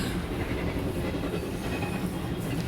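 In a video game, a train rolls past with a steady, dense rumble and faint clatter of wheels, continuous and fairly loud throughout with no voices.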